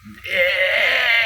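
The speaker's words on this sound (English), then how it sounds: "They are both loud and obnoxious sheep." A sheep gives one long, loud bleat that swells and wavers for about a second, close and clear, with no other sounds.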